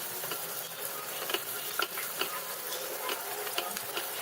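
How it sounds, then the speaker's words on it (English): A chopped medium onion fries with whole spices in a pan, giving a steady, soft sizzle with scattered small crackles and pops throughout. "We're going to fry the onion till it's nice and translucent."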